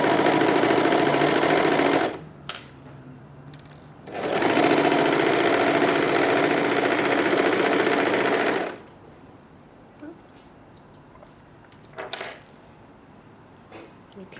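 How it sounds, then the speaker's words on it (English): An overlocker runs along a t-shirt seam in two loud, fast whirring bursts, one short and one longer, each stopping abruptly, followed by quieter handling clicks and taps. "you see your overlocker goes over that"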